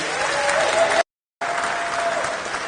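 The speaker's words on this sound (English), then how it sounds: "You give them a big, big, big round of applause." A crowd applauds warmly at a Windrush 75 celebration in London, a dense, steady round of clapping that breaks off for a moment and then resumes just as strongly.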